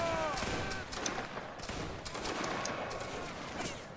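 A massed musket volley in a Waterloo-era battle video game, Prussia against Italy, crackles as a dense ragged burst of many overlapping shots, loud and close, with a voice briefly heard at the start.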